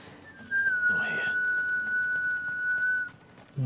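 A single long steady whistle from a character in the video game Final Fantasy XVI, one sustained tone lasting nearly three seconds, clear and fairly loud, with faint background game sounds.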